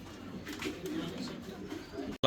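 Soft, low cooing of fancy pigeons at a pigeon farm repeats in a gentle rolling rhythm, close by, ending with a brief louder noise.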